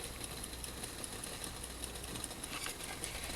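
Water at a full boil in a pot on a Solo Stove wood-burning camp stove at 5200 ft, a steady close rushing roar with a faint, regular ticking running through it.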